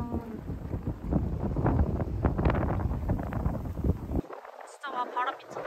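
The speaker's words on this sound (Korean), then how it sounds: "바람 미쳤다" Strong wind buffets a microphone outdoors, a loud, broad rumbling roar over roughly four seconds that cuts out abruptly, followed by brief quieter sounds near the end.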